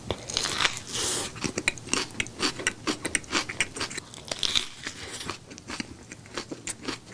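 Biting into and chewing a No Brand jjajang burger, close crunchy bites followed by repeated moist chewing in an uneven rhythm, loud and near with no talking.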